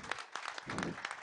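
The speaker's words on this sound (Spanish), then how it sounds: "así que un fuerte aplauso" An audience claps briefly at a chef's festival in Villa Pehuenia, a short burst of applause heard from a distance.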